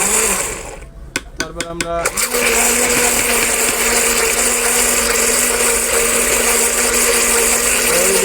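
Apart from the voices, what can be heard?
electric blender blending menus mixture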